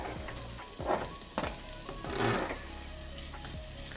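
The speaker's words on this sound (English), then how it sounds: "That is starting to sizzle, so in about 10 seconds I'll put the rest of the garlic in." Garlic sizzling in hot oil in a pan, a steady crackling fry with a few louder bursts and occasional stirring clatter, close and without speech.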